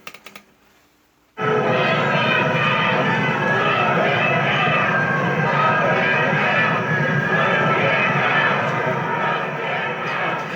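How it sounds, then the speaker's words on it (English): A large crowd outside the Supreme Court, where President Trump paid respects to the late Justice Ruth Bader Ginsburg, breaks into loud, sustained chanting after a quiet moment, a dense roar of many voices that holds for about nine seconds. "crowds chanting really in the president's face like that"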